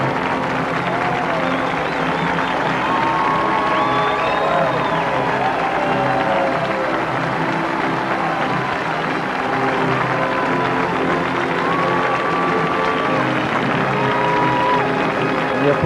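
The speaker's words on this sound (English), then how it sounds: "The applause hasn't stopped for those 3 athletes," Stadium crowd applauding the medalists at the Olympic men's marathon medal ceremony, a continuous, fairly loud roar of clapping and crowd noise with faint whistle-like tones drifting over it throughout.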